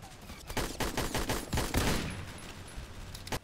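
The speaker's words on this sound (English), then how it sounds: "Man, what a gunfight. I've shot him like 4 times now." Rapid gunfire during a gunfight in the Roblox WWII game Airship Assault, a quick volley of sharp overlapping shots lasting a few seconds.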